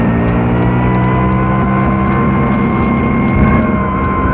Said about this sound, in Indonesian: Kalian gua manasin motor ini gitu.